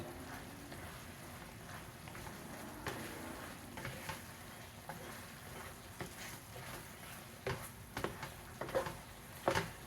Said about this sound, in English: Now I'm just keep stirring my apples, and they're getting all coated.